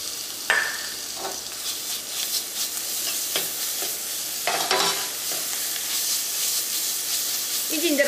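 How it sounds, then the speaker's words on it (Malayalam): Ginger garlic paste and onions frying in hot coconut oil for a chicken masala make a bright, hissing sizzle, with spoon scrapes and stirring clatter breaking in throughout. "ഈ ജിഞ്ചർ ഗാർലിക് പേസ്റ്റും ഈ എണ്ണയിൽ കിടന്നിട്ടൊന്ന് മുരിയണം."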